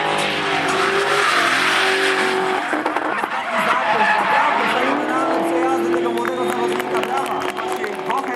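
A drift car screeches through a corner at a drift competition in Poznań, with loud sustained tyre squeal and a revving engine rising and falling, while an excited commentator talks over it throughout.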